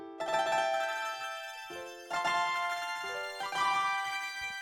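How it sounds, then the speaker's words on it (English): Crystallized delay effect made with a Soundtoys Crystallizer plugin: three shimmering, bright pitch-shifted bursts, each trailing off into echoey, ethereal repeats, quiet and without talk. "it's basically a delay with a bunch of like pitch and timing controls that gives it this like weird ethereal,"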